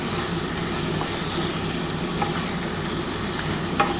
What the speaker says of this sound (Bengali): এবার আমি গরম জলটা দিয়ে দিচ্ছি।